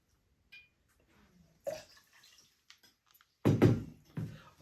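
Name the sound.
pouring Knob Creek bourbon into a glass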